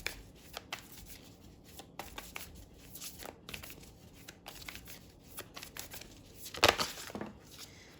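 Tarot and oracle cards, including a Moonology deck and an Archangel Power Tarot deck, are shuffled and pulled close by, with soft riffling, flicking and papery slides in uneven bursts and a louder flurry near the end.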